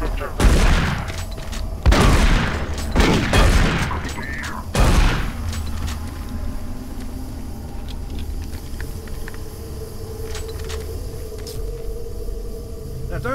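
Shotgun blasts from the video game Doom 3, several loud booming shots in the first five seconds, spaced about a second apart, followed by a low mechanical rumble and ambient hum.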